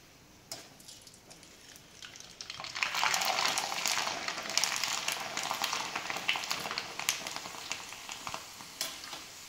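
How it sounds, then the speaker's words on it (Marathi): Wheat kurdai wafers fry in hot oil with a steady, crackling sizzle that swells after a quiet start and holds on, with an occasional light clink of a utensil. "अजून एक आपण कुरवडी तळून बघूया"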